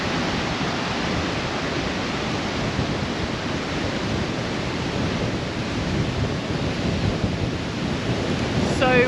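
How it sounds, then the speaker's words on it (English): Strong wind at Four Mile Beach roars steadily across the microphone, a dense broadband rush with gusting low rumble that never lets up. "So windy."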